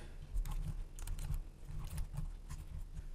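A computer keyboard clatters as a letter's subject line is typed, soft quick keystrokes coming in small irregular bursts at close range, faint and without speech.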